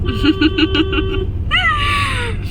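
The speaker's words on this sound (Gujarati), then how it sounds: "એનું મ્યાઉ મ્યાઉ ચાલુ થશે" A cat meows several times in quick succession up close, then lets out a longer, rising drawn-out meow.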